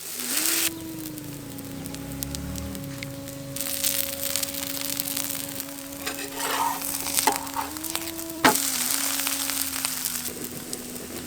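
Tapioca dosa cooking in a pan, a soft continuous sizzle with faint crackles under a steady electrical hum, with a brief scraping clatter near the end.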